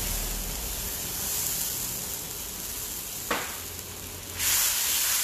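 Shaoxing wine hits a hot pan of calamari, raising a steady, close frying sizzle with a sharp hiss burst near the middle and a louder surge of sizzling toward the end, no voices.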